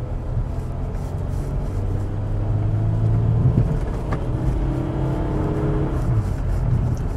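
A Jeep Grand Cherokee engine drones steadily under load in second gear at about 2,000 RPM, a continuous low rumble heard from inside the cabin.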